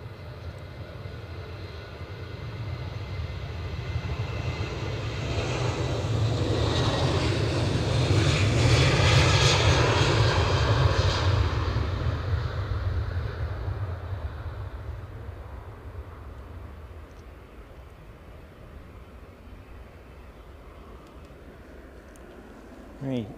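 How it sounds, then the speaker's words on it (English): Jet engines of an Air France Embraer 190 airliner after pushback at Edinburgh Airport, a broad roaring whine that swells to a peak midway then slowly fades, heard from a distance with a voice talking over it. "Air France have pushed and turned. Almost certainly that is an Embraer 190"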